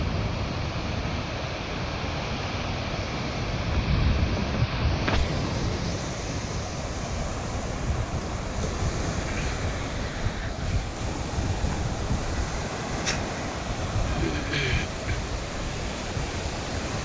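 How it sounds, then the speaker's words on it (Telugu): Sea surf at high tide on Kakinada beach with boats offshore, a steady broad roar of waves washing in without pause, heavy wind buffeting the microphone throughout. "సముద్రం బాగా పోటు మీద ఉన్నట్టుంది"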